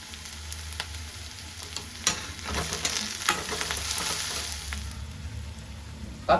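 Sliced onion, banana flower and banana stem sautéing in a pan for a banana flower poriyal, a soft continuous sizzle with intermittent stirring scrapes and clinks, fairly quiet and close.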